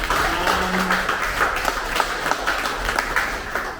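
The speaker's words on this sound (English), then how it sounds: "So big applause to all of you." An audience claps in applause for about twenty startup pitchers on stage at a pitch night, a steady patter of many hands at moderate level with brief vocal sounds mixed in.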